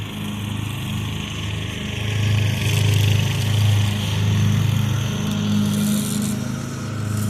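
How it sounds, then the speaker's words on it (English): An Echo SRM 225 weed eater runs steadily at a low, slow idle, a close, continuous buzzing drone that swells slightly in the middle, with no voices. "we definitely want to mainly focus on the weed eater part"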